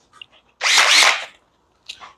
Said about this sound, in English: I'm gonna take this drill,